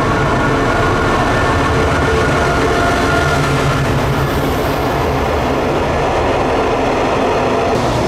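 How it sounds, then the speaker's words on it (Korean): A long Thai sleeper train arrives at a station, with a loud, steady rumble of rolling railcars and faint clattering over the rails sustained throughout, no talking. "네, 슬리핑 기차라고 합니다."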